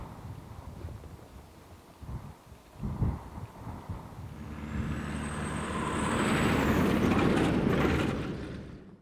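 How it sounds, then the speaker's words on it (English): A loaded logging truck passes on a rural road in Maine, its engine rumble swelling from a distance to a loud, broad roar with a high whine over the final seconds. "They had logging trucks going by carrying wood"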